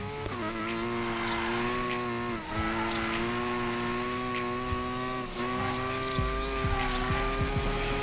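An all-wheel-drive car drifts in the racing game Need for Speed Payback, its engine holding a sustained whine that dips twice as tires squeal and skid, with sharp bursts of noise toward the end.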